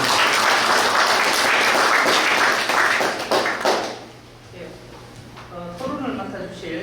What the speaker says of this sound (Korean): 큰 박수로 하겠습니다